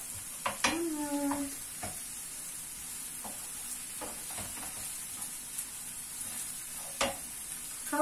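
Ground meat with aubergine and potato being stirred and fried in a pan until browned: a steady soft sizzle with scattered utensil scrapes and taps, close, with a brief child's vocal sound early on.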